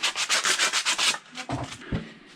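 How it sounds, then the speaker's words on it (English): Rhythmic back-and-forth rasping of sandpaper on a wooden stick being carved into a fishing lure, about eight quick strokes, then slower scattered scrapes and soft knocks, close and with no talking. "I think I'm done with the sanding"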